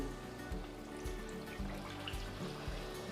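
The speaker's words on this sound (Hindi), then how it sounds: "अब हम इसमें पानी डाल देंगे।" Water poured into a pan of cooking potato curry (aloo sabzi), a steady soft trickling and splashing pour that runs for a few seconds at moderate level, with no talking.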